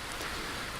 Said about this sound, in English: And darkness fell, and the rain started falling